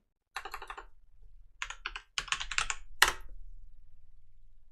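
Someone types a terminal command on a computer keyboard, with close, crisp key clicks coming in three quick bursts separated by short pauses, the last keystroke landing as a sharper tap.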